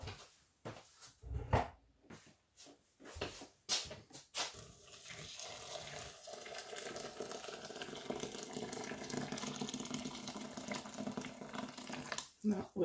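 Water runs from a tap into a pot for a basic lentil soup, a steady splashing pour lasting several seconds after a few bumps and clatters, with a brief voice early on.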